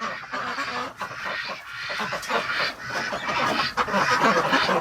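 Several ducks being bred in a frozen winter cabin quack and honk in a dense, busy chorus close by, calls overlapping continuously throughout.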